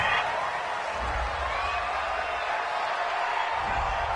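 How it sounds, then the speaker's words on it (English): A home crowd in a football video game cheers a penalty call with a steady, distant roar and scattered whoops that stay level throughout. "This home crowd, they're happy with that call."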